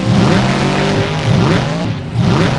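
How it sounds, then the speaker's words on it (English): The monster truck Straight Jacket launches into a tournament time attack run, its loud engine roaring and revving in repeated surges, close and dominant throughout. "Next truck up is going to be Straight Jacket. He's going to get off to a good start for his 1st attempt."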